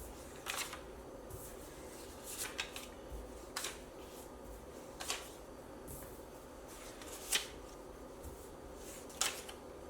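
Cards from an animal card deck are shuffled and dealt out in a card game, giving a run of sharp, quiet snaps and slides spaced irregularly across a hushed room, with no voices.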